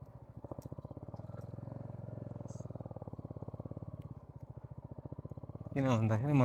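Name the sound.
motorcycle engine while riding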